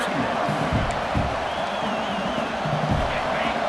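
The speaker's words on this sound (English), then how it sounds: "And this crowd coming to life here, trying to help the defense get a stop." A college football stadium crowd at Ohio State versus Michigan roars steadily for the defense, a dense continuous din of cheering with a commentator talking over it.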